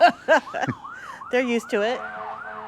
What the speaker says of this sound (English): I'm sorry, that ain't a fire truck. That's the ambulance.